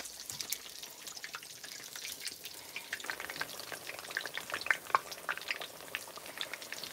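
Snapper fish fry in hot oil at an outdoor Jamaican cookout, a steady, dense crackle and sizzle with sharp pops running throughout.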